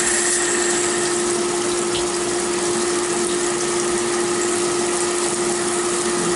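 A lathe machining a ball nut mounting plate at about 750 RPM with a slow one-inch-per-minute feed, giving a loud, steady mechanical hum with a constant tonal whine and broadband noise throughout, no voices.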